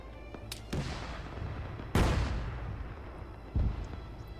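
Tank cannon fire strikes a Panzer in the Arma 3 video game, three separate heavy booms spaced a second or more apart, each with a sharp crack and a long rumbling decay, moderately distant and with no talking.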